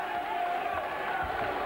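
A boxing arena crowd rising to its feet near the end of a round, a broad sustained roar of cheering under a commentator talking over it.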